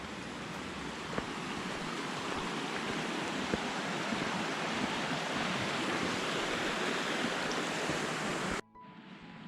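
Steady rushing water flows continuously nearby, a broad hiss of a stream that cuts off abruptly near the end.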